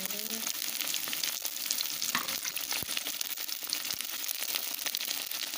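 Okra and meat fry in a pan with a dense, continuous sizzle, with occasional stirring scrapes and crackles close up, no voices.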